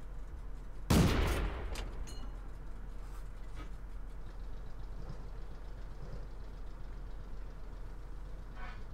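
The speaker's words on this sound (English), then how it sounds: "I'll just try a few more blind shots and see if we can hit somebody" A single loud, booming shot from a Renault FT AC tank's gun in World of Tanks, followed by a quick decaying echo and then a low, steady engine hum with no further shots.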